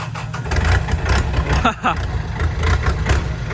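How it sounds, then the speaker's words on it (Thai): A tractor engine catching after a push-start on a weak battery, running with a rough, loud, close chugging rumble and uneven pulses, a voice speaking briefly over it. "รถผมกระตุกนิดหน่อยก็ติดแล้วนะ"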